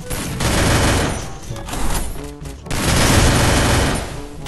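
Dense, loud enemy gunfire in a shooter video game: sustained bursts of rapid shots with a brief lull midway, then another heavy volley, close and continuous.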